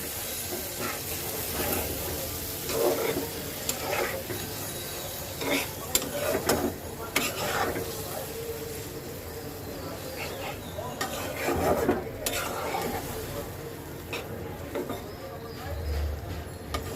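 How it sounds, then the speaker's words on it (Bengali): Goat liver being stirred in a pan with a little water, giving soft wet scraping and low bubbling close by, with intermittent clinks of the utensil against the pan. "এই আমি জল দিয়ে দিলাম নেড়েও দিলাম"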